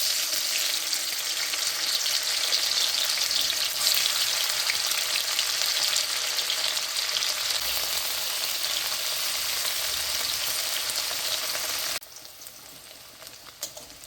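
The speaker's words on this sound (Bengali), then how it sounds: "পনিরটা সুন্দর করে ভাজা হয়ে গেছে, আমি এখন পনিরটা তুলে নেব" Paneer frying in a wok makes a dense, steady crackling sizzle like rain on a surface, close and even, before dropping abruptly to a faint low hiss near the end.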